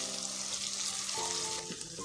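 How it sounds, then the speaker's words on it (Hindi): Coarsely pounded ginger garlic paste fries in oil until golden, a steady soft sizzle with faint tonal hum from the stove in the background. "इनको ऐसे गोल्डन कर लेंगे"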